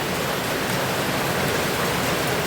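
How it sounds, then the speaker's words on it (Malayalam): Rainwater flows in a continuous, even rushing wash close by, with no pauses or voices. "നോക്ക്, മഴവെള്ളം ഒഴുകി വരുന്നതാണ്."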